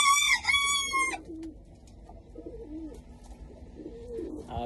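Domestic pigeons coo in a loft: a loud harmonic call opens, then several soft, low, throaty coos follow at a relaxed, uneven pace, close by.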